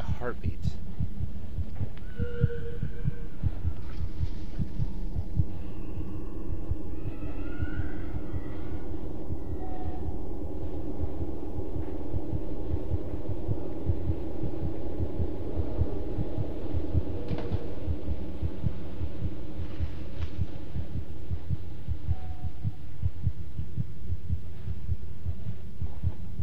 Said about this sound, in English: hearing a heartbeat.